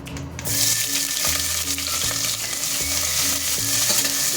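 Onions fry with whole spices in a biryani pot, a loud, close, continuous sizzle with a rhythmic series of spatula stirs and knocks repeating roughly every second.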